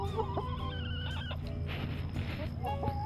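Backyard chickens clucking with scattered harmonic calls over a steady low hum, fairly close and continuous throughout.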